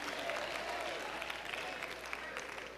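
Women in an audience clap and murmur together, a soft, fairly distant spread of many hands mixed with crowd noise, staying even before easing slightly at the end.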